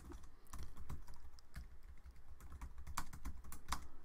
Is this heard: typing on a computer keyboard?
yes